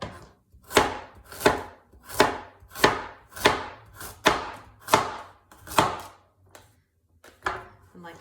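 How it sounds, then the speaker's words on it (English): A knife chops carrots into rounds on a board, about a dozen firm, evenly spaced strokes, each a close crisp thunk, with a brief pause near the end before the last cut. "after we cut up the vegetables"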